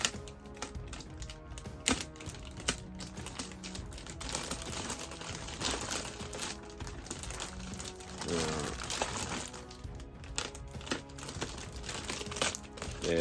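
Plastic-wrapped toy packaging being cut and pulled open, a steady stream of close crinkling, snipping and rustling with small clicks, fairly faint and continuous.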